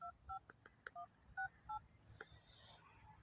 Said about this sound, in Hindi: मोहसिन भाई दा फोन।